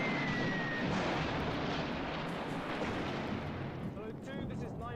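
Artillery bombardment effect from a war-era TV show, a dense continuous roar of booming blasts and rumbling fire, loud and sustained throughout with faint voices underneath.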